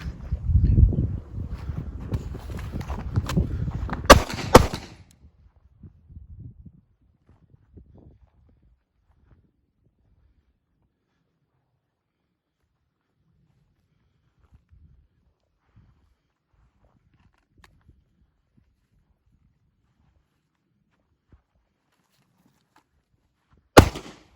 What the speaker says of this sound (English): If this is the last bullet, shoot it and then go to the target and talk about it